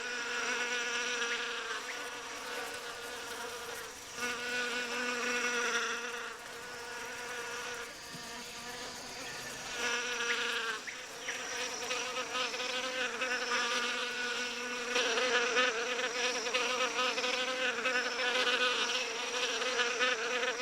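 A dense, steady insect buzzing of many wasps fanning their wings, continuous and close, with a high droning hum that swells slightly over time.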